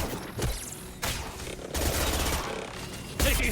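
Heavy gunfire in the Mass Effect 2 video game: dense, loud volleys of automatic shots that burst in and out in waves across the whole stretch, with sharp onsets near the start and end.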